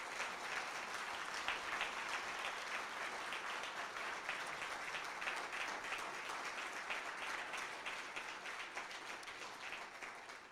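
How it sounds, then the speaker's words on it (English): Steady round of audience applause at an annual campus lecture, dense rapid clapping from a sizable crowd heard at moderate distance, continuous and gradually tapering toward the end. "give yourselves a huge round of applause"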